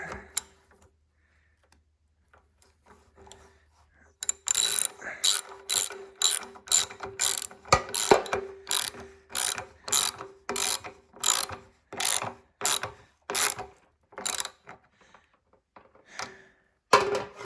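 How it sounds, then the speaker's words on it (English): A 10mm socket wrench ratchets on a 1981 Honda XL125s, a run of about a dozen sharp, close clicking bursts in a steady back-and-forth rhythm after a few quiet seconds. "Get my trusty 10mm socket."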